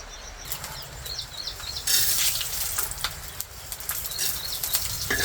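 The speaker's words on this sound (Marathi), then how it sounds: "डाळ, खोबरं, धने, कांदा एवढं तळून घेते." Dal, grated coconut, coriander seeds and onion frying in a pan, a busy crackling sizzle that swells suddenly, steady and close with small popping bursts and no talking.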